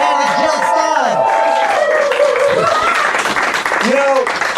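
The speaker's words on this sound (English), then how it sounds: "can we get a round of applause again for our presidential candidate, Jill Stein?" An audience applauds and cheers for presidential candidate Jill Stein at a debate event, loud crowd clapping with whoops layered under a speaking voice throughout.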